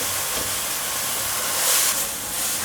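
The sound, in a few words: stir-frying enoki and shiitake mushrooms with tofu puffs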